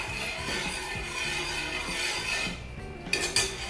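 Sugar is stirred into pomegranate juice, with a few quick, light clinks of a spoon against the vessel near the end, heard under steady background music.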